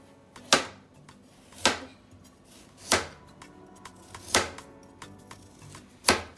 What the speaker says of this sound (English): We're gonna thinly slice our carrots so they can cook quickly